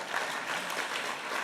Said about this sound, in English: you can applaud, Lisa.